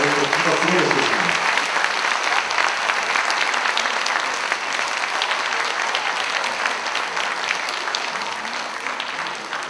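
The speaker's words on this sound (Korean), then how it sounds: "여러분 박수로 모시겠습니다" A crowd applauds in welcome as a guest, the grandson of an independence activist, comes onstage at a concert event in Yeongju. Loud sustained clapping fills the hall, tapering slightly toward the end, with a voice briefly audible at the start.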